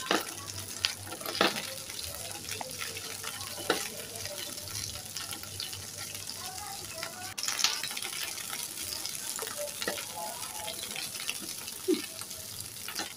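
Okra fries in a pan with a little salt, crackling and sizzling steadily while occasional spatula scrapes and clatters punctuate it, with a faint low hum underneath and no speech.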